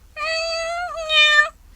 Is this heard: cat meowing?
yes